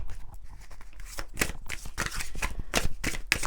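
Oracle cards are shuffled by hand, a dense, continuous riffle of rapid papery flicks and snaps that runs nonstop, close and fairly loud.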